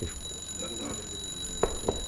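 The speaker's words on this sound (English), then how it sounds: "your sporran is ringing" A wristwatch alarm rings from inside a sporran worn with a kilt, giving two short, sharp electronic chirps near the end over a quiet indoor background with steady high-pitched hum.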